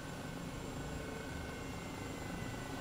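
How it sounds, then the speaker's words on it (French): A SAMU medical helicopter flies over Paris near Notre-Dame, giving a steady, faint rotor and engine roar that holds without change and has no voices over it. "Ah, ça a de la gueule avec l'hélico, Samu et tout."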